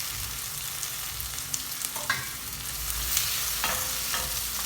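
Onion sautéing in oil in a pan while cooking chicken gizzards: a steady close sizzle with a few stirring scrapes and clicks, no talk.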